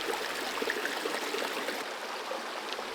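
Water of a stream flowing steadily through a wooded valley glen in Scotland, a continuous close rush and babble with small gurgles, no voices.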